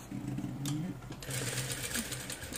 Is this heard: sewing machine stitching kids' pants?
yes